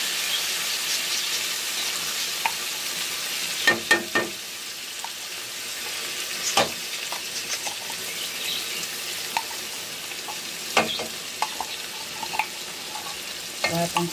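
Corned beef fries in a pan for Filipino-style spaghetti sauce, a continuous close sizzle broken by several sharp scrapes and knocks of a utensil stirring against the pan, with no speech.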